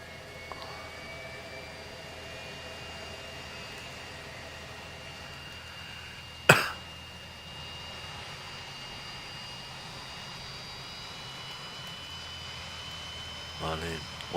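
Simulated aircraft engine running at about 93% power in the X-Plane flight simulator, a steady faint jet-like drone with a sharp click partway through and a brief rise near the end.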